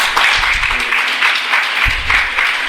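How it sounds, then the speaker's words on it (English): Applause from a college audience of BTech and MBA students, a loud, dense burst of clapping from many hands close by, lasting a few seconds. "Give her for a clap for that."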